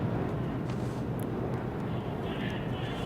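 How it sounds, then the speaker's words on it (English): A loud airplane roars steadily overhead, a dense low rumble that fills the whole clip with no break. "That plane is so loud."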